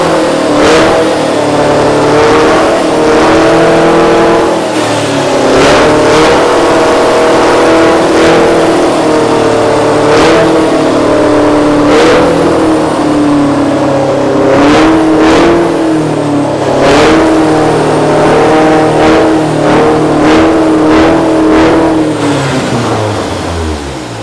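Mazda FC rotary engine on Mega Squirt engine management runs with no exhaust system fitted, a loud, raspy, steady idle with a rough pulsing beat and occasional sharp popping bursts, heard up close throughout.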